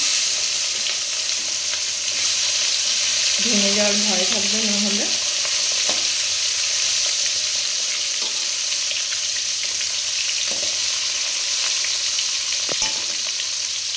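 Pomfret fish frying in hot oil in a wok, a dense continuous sizzle with occasional scrapes and clicks; someone speaks briefly over it early on.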